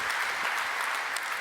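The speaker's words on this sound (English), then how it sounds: "It's worth a clap, by the way" An audience applauds at the Unite Europe 2016 keynote, a broad, loud wash of many hands clapping steadily throughout.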